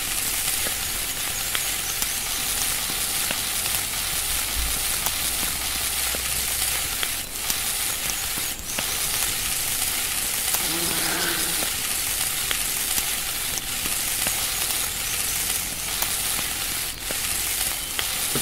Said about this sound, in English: Press space until you hear the skillet sound again.